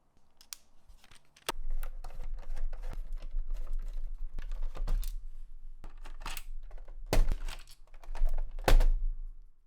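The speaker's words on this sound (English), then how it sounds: "Let's get started by removing the 5 screws underneath the console." Screws are being removed from underneath a Sega Saturn console, a close series of small clicks, taps and scraping ticks. Several sharper clacks punctuate a low continuous hum, and no one speaks.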